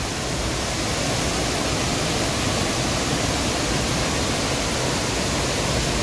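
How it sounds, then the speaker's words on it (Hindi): Bheemlat waterfall in Bundi pours from above in a dense, steady roar heard from close beside the falls, unbroken and loud throughout with no voices. "ऊपर से बह रहा है झरना, झरने के पास में खड़ा हूँ मैं"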